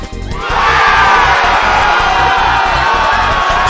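A stadium-style crowd in the fighting game SkullGirls roars and cheers loudly and continuously, swelling up quickly after a brief quieter start and holding steady over a rhythmic pulsing backing beat.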